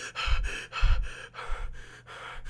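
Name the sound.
Ellie panting after sprinting, video game The Last of Us Part 2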